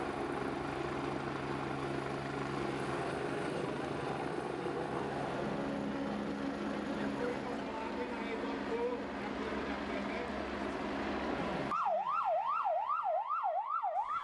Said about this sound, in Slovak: Horskí záchranári a vrtuľníková záchranná služba nám ukázali záchranu